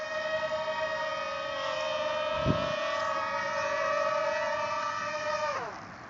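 A ZeroTech Dobby drone setting down on the ground, its motors giving a steady high-pitched whine for several seconds before spinning down at touchdown, close and loud.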